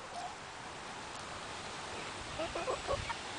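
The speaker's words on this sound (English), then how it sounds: "oh, chickens are back" Chickens cluck faintly in the background of a small farmstead garden, with a few short calls rising near the end over a steady outdoor hiss.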